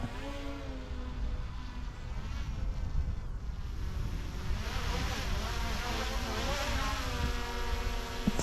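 A DJI Mini drone with an ND filter hovers and flies close by outdoors. It gives a continuous insect-like buzzing whine with gently wavering pitch, steady and fairly loud throughout, with no talking.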